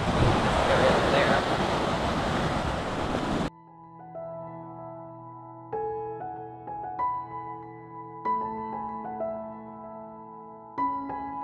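Ocean surf rolls onto the beach at Trindade, Brazil, a loud, wind-buffeted wash of breaking waves for about three seconds before giving way to quiet music.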